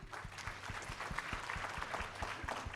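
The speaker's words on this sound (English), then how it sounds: "But round of applause for Dr. Ibrahim" Fairly quiet audience applause for panelists at a breast cancer care talk, steady scattered clapping with a regular low thumping beneath it, somewhat distant and muffled.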